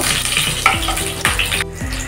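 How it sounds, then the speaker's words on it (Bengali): Nigella seeds and slit green chillies frying in oil over low heat for mustard hilsa, a close steady sizzle with clinks and scrapes of a spoon against the pan. "তারপর দিয়ে দেব 3টা চেরা কাঁচা লঙ্কা দিয়ে কিন্তু হালকা আঁচে কিন্তু আমি একটু ভেজে নেব।"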